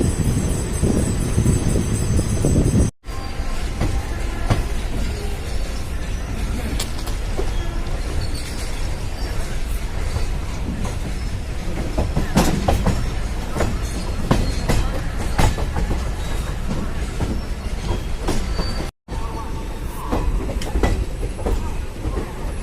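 Mussoorie Express passenger train rolling along the tracks out of New Delhi, a loud continuous rumble with rhythmic clickety-clack of wheels over rail joints, heard from inside a carriage.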